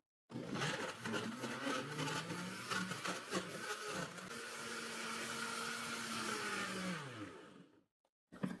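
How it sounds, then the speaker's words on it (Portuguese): Blender motor whirring steadily as it purees carrot with oil and sugar for a carrot brownie batter, loud and continuous for about seven seconds, its pitch sagging slightly before it switches off, with no talk. "Vamos bater aqui, gente, até assumir a cenoura, tá?"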